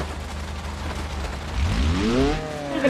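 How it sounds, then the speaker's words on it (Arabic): A car engine idling in the BeamNG.drive driving simulator, a steady low rumble that swells louder partway through as the pitch climbs in a rising rev. "الموتور شغال والعجله اللي ورا بتمشي"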